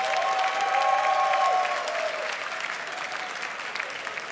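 An audience at a live opera show applauds a singer, with sustained clapping that is loud at first and then slowly tapers off, heard without talk.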